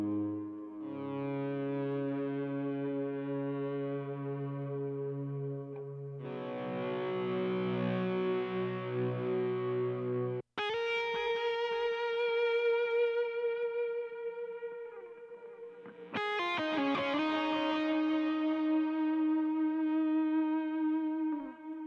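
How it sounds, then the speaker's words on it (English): A solo lead electric guitar from a track plays isolated single-note lines, its long sustained notes carrying distortion and echo, loud and alone with no talking. "This is the solo guitar or lead guitar."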